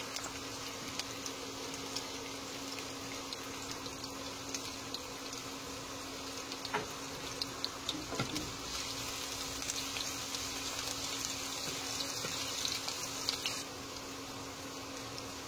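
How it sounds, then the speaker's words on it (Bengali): Chopped onions fry in hot oil for Bengali wedding-style moong dal with fat, giving a continuous crackling hiss scattered with tiny pops. The sizzle is steady and moderately quiet throughout, with no speech. "হালকা করে আমি তেলে পেঁয়াজ ভেজে নিচ্ছি।"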